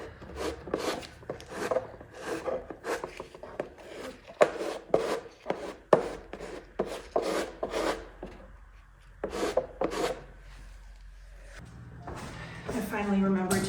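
A primed wooden bookcase base is sanded smooth by hand in a quick rhythmic series of rasping strokes, pausing briefly before resuming, with a voice near the end.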